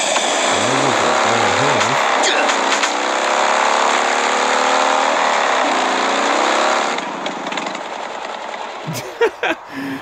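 A car drives in the survival video game Last Day on Earth, its engine droning loudly and steadily with shifting revs before easing off near the end, followed by a few sharp knocks.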